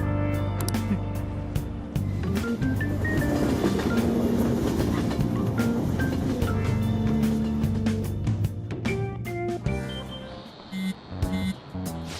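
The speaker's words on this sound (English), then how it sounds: "Oh, the train is here. Let's get going then." Train from the video game Persona 5 Royal pulling in and riding, a loud rumbling roll with clickety-clack wheel beats and a brief tonal squeal, fading toward the end, no talking.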